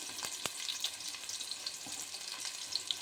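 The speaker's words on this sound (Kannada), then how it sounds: "ಈರುಳ್ಳಿ ಹಸಿಮೆಣಸಿನ್ಕಾಯಿ ಫ್ರೈ ಆಗ್ತಿದೆ." Sliced onions and green chillies sizzle together in hot oil for a coconut chicken dish, a soft steady crackling hiss with small pops, fairly faint and close, with no talking.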